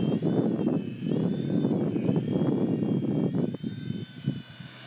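A small V911 Pro RC helicopter spins up and takes off at a fairly strong start, its rotor and motor giving a close, steady whirring buzz with slight pitch wavers that ease off toward the end.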